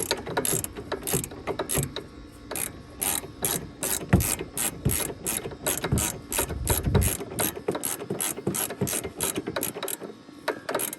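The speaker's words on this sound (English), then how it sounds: "We're just going to do these two tight with the ratchet." A ratchet tightens the bolts on BC Racing coilovers with a long run of rapid, loud, evenly spaced clicks close to the microphone, pausing briefly and then clicking on.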